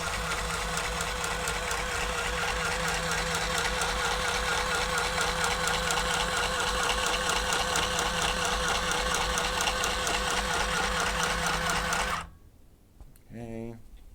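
A sewing machine stitches in a steady, fast, close mechanical whir that runs for about twelve seconds, then cuts off, leaving a few faint sounds.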